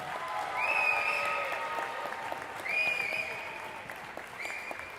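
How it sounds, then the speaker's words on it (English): Gym crowd applause at a Holy Name vs Normandy girls varsity basketball senior night, fairly faint and distant clapping in swells, with a few high squeaks cutting through. "Let's give a round of applause for Kiki Schmock"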